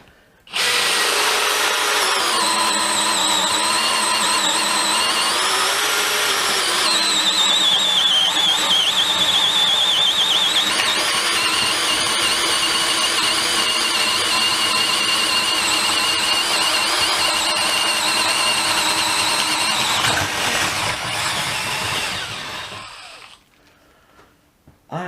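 A DeWalt DCD701 12V brushless drill runs in first speed, boring into a workpiece with a steady whining motor drone whose pitch dips and shifts under load before cutting off near the end.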